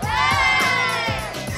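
A crowd of fans outside The Bounty Hunter movie premiere in New York City screams and cheers loudly and steadily, with high excited shouts layered over a dense, continuous roar up close.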